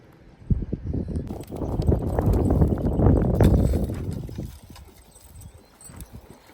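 A horse's hooves clip-clop on the ground during groundwork training with the lead rope removed, a quick rhythmic run of close, loud strikes that swells in the middle and then tapers off, with no talking.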